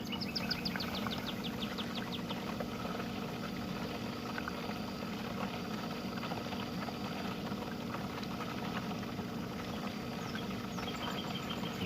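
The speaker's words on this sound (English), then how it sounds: "Turn the pump back on." A Summer Waves pool skimmer pump, converted and just switched back on, runs with a steady, continuous hum and watery rushing, while birds chirp faintly outdoors in the background.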